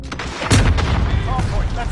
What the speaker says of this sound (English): Oh, Eva, I'm taking fire!